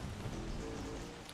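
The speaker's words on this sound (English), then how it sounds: "it seems to be raining pretty heavily now" Steady rain in the video game Don't Starve (Reign of Giants) makes a soft, even hiss with no distinct drops or thunder.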